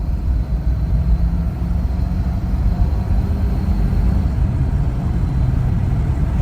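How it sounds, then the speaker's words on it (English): A 1983 Ford Crown Victoria engine pulling steadily as it accelerates onto a freeway, a continuous low droning rumble with road noise heard from inside the car, no talking. "let's just do a mild acceleration onto the freeway"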